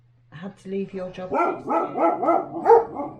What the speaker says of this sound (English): Sorry, we have dogs, so if you hear barking, that's what it is.